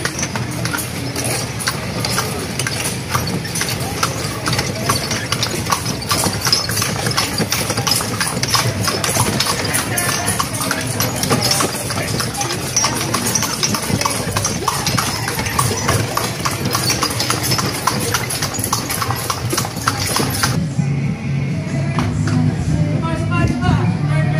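Hooves of a horse pulling a kalesa carriage clip-clop in a steady rhythm on the street, mixed with a running engine, traffic noise and background voices.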